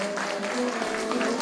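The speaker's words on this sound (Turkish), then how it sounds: "Bir alkış alabilir miyim?" Applause from guests at a wedding ceremony, a steady wash of clapping that runs through the whole short stretch at moderate level, with a tonal hum or voice faintly underneath.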